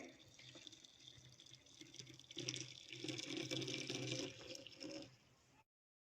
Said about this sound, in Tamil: நான் ஒரு 1/2 லிட்டர் அளவுக்கு தண்ணி ஆட் பண்ண போகிறேன்